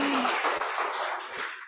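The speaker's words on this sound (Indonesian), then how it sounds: "Tepuk tangan bagi Tuhan Yesus" A church congregation claps for Jesus during a Sunday service, a dense wash of many hands applauding together at moderate distance, brief and steady.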